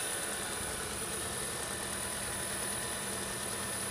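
A 2017 Kia Optima Hybrid gasoline engine runs under the hood, heard as a steady, fairly faint mechanical hum with a faint high whine; it does not clearly cut off within the span.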